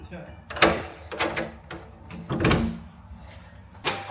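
A locked door is tried and rattled from outside in a series of loud knocks and handle jolts, with one heavy thump near the middle, while people talk nearby.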